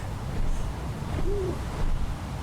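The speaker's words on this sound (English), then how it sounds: "Oh, there's an owl." An owl gives a single short hoot from a distance over steady outdoor background noise in a video game set in Quebec.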